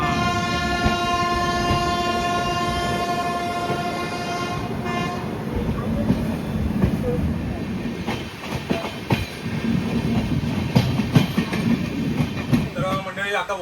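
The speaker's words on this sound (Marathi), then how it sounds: "मस्त ट्रेन इली कोकण कन्या" The Konkan Kanya Express passes through a station with a long, loud horn blast, then a rumbling clatter of wagons that grows rougher and closer.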